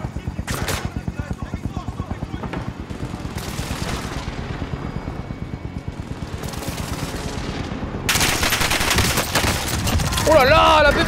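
A PPSh submachine gun fires in Warzone in long rapid bursts of closely spaced loud shots, almost continuous for the whole stretch and growing harsher near the end, with speech heard over the gunfire.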